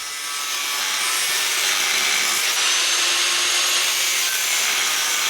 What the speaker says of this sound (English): Made a cut with the angle grinder on the middle of the bar